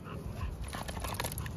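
Dog at a playgroup whimpering and panting close by, a short run of soft breathy pants and faint high whines over steady outdoor background noise.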